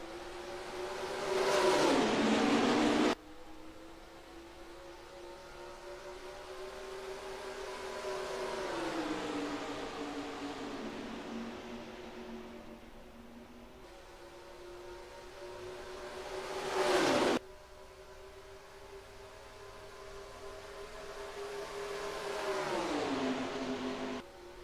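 Several race cars in NASCAR Racing 2003 at Texas surge past on a green-flag restart, engine roar swelling and fading in repeated pass-bys with sharp cutoffs, no voices over it.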